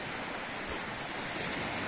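Sea waves wash onto a beach at Sunny Beach in winter, heard as a continuous broadband roar of surf with wind noise, fairly loud and with no one speaking.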